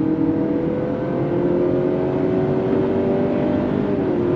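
Engine of a 2024 Honda CR-V compact SUV accelerating under throttle with simulated shifts, a steady loud droning hum with rising tones that drop slightly at each shift, heard from inside the cabin without talk.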